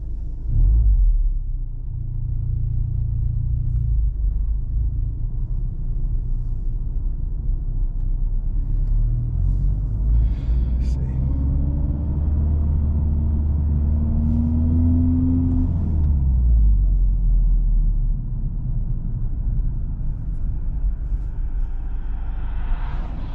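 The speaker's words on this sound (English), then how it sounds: "Too many cars going this direction," Cars drive past on the road in a continuous loud rumble, with an engine note rising and falling as a vehicle approaches and passes nearby and traffic noise persisting throughout.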